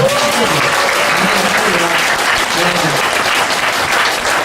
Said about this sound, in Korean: 박수 한번 해주시고.